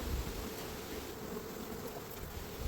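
A dense, steady buzzing of a large honeybee swarm fills the air, close and continuous, with a faint windy hiss.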